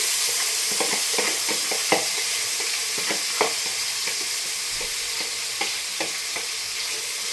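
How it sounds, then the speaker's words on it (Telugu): Chicken pieces sizzling in a pan of browned onions, with a steady frying hiss and a scatter of sharp scraping and clattering stirring strokes throughout; no talking. "ఇప్పుడు చికెన్ వేసుకోవాలి, ఇందులో మొత్తం వేసుకోవాలి."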